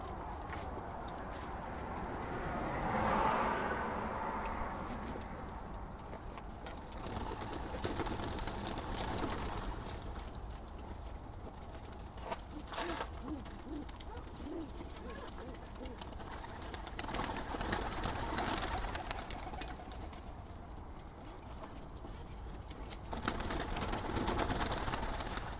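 Homing pigeons are released outdoors during road training in Stockton, California, giving quiet wing flutters and soft bird sounds against faint background noise, with a few brief surges of flapping spread across the scene.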